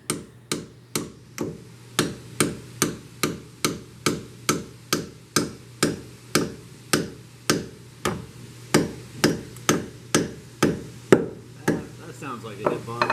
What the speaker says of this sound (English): Don't judge my hammering skills here.